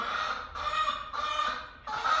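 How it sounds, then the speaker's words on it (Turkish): Hens cluck in a coop, with three drawn-out, nasal calls close to the microphone, each separated by a short pause. "tavuklar yumurtlayacak çünkü gıdaklamaya başladılar"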